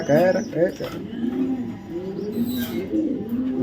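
A black checker female racing pigeon coos in low rolling bursts at close range, the calls repeating steadily while someone talks over them in the background.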